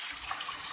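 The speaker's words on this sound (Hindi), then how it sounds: "थोड़ा सा मैं इसमें पानी शामिल कर लूँगी" A brief, steady splash of water is poured into a pan of frying chana pulao, close and gushing without a break.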